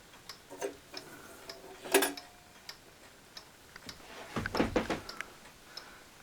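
Ticking of a triple chiming mantel clock with a stuck weight chain, irregular clicks and a few sharper mechanical knocks, close and quiet.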